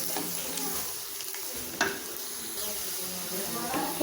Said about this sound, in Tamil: கொஞ்சம் நேரம் பூண்டு நல்லா வதங்கணும்.